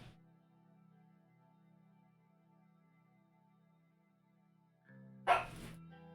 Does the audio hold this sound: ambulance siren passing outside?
no